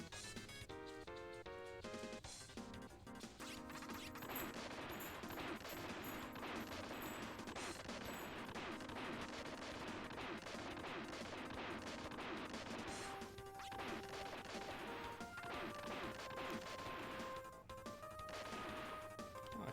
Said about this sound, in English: Oh, I shoot lasers backwards now.